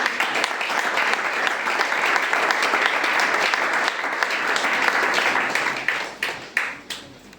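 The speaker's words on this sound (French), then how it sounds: "Est-ce que nous pouvons acclamer?" A church congregation applauding: dense, sustained clapping from many hands that thins into a few scattered claps at the end.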